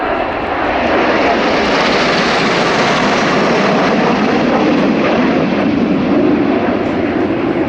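Patrouille de France jets fly over in formation at an air show, a loud, continuous broadband roar that swells and holds steady throughout.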